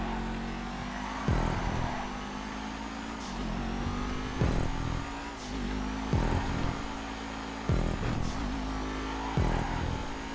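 An exclusive, unbuyable race car in GTA 5 roars around a custom race track, its engine droning steadily with repeated sharp gear-shift dips and revs about every one and a half seconds, loud and close.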